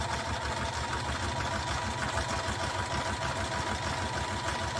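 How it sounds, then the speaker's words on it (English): A sewing machine runs fast and steadily, stitching through card, its rapid mechanical stitching rattle close and continuous, with no talking. "my sewing machine is sewing through this card and all these other bits and pieces perfectly happily"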